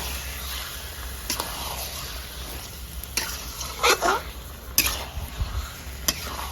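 Haldi chicken masala being sautéed in a pan with a splash of water, a steady sizzle broken by several sharp scraping stirs and clatters of the spoon against the pan, close up and with no talking.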